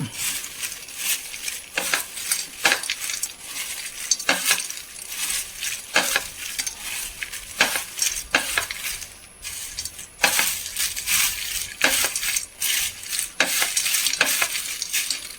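Hot, crispy fried elephant foot yam is tossed and mixed by hand or spoon, producing repeated scraping, rustling strokes with small clinks in an irregular rhythm, close and fairly loud.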